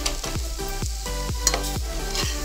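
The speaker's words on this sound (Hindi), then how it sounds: "फिर चलाएंगे अच्छे से ताकि सटे नहीं इसमें कुकर में।" Ghughni frying in a pressure cooker is stirred with a spoon, giving repeated scraping strokes roughly every half second over a steady close sizzle, with no talking.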